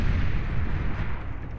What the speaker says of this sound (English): There we go. I heard explosions.